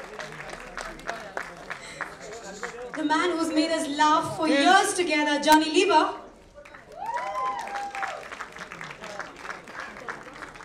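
A crowd applauds at a Hindi film promotion event, a burst of clapping swelling for a few seconds in the middle, framed by an announcer speaking over a microphone before and after.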